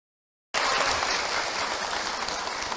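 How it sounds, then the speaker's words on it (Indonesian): Audience clapping for a woman at an Islamic pre-dawn sahur gathering bursts in abruptly after a moment of silence, then holds as a loud, dense, even wash of many hands. "tepuk tangan untuk Ibu Ida Rosida"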